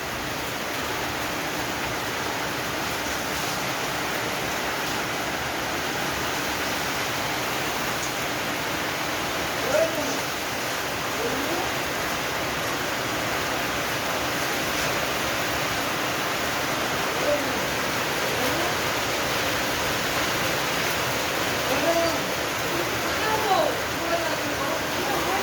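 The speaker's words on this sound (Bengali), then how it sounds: "দেখো বন্ধুরা কিরম ঝড় বৃষ্টি এসেছে।" Heavy rain pours during a storm, a dense, steady roar that stays loud and unbroken throughout, with a few faint knocks and occasional faint voices in the background.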